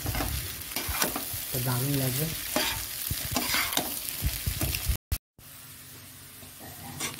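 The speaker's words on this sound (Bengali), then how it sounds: "দেখো হয়ে গেছে আলুটা ভাজা" Potatoes with onion, green chilli and egg fry in a pan, sizzling loudly with repeated stirring and scraping strokes close up; a voice speaks briefly over the cooking, and there is a short cut of silence near the end.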